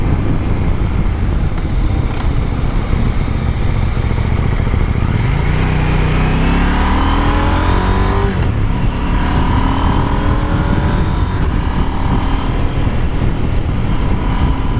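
A KTM 890 Duke R engine pulls hard through the gears with quick-shifter upshifts, its note climbing, dropping briefly at each quick shift and rising again, loud and close against wind noise.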